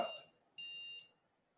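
A computer motherboard gives two short electronic POST beeps on restart, a quick tone followed by a slightly longer one, clear and close in an otherwise quiet room.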